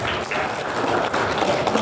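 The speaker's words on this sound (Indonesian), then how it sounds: "Tepuk tangan untuk beliau." Applause from an audience welcoming a guest professor at an Indonesian academic event, a dense, steady burst of clapping that carries on without pause for about two seconds.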